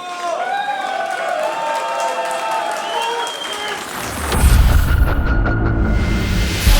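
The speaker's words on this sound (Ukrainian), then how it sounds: "Ще раз, будь ласка, оплески для дяді Олега." A crowd at a bare-knuckle boxing event applauds and cheers for a 48-year-old fighter, building into a louder, booming roar of clapping and shouts partway through over lingering arena noise.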